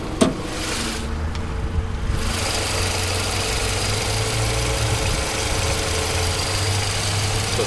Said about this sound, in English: I've just popped it so that we can go ahead and look under there and you can listen to the engine.